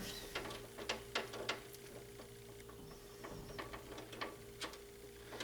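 A nut being threaded and snugged onto the bar of a replacement vending machine lock gives quiet, close metallic clicks and ratchet-like ticks in an irregular rhythm, with a faint steady hum underneath.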